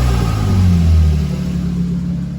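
A Lexus IS300 engine revs with open headers and no catalytic converters, a loud, steady low rumble that swells slightly near the start and holds throughout without any talk.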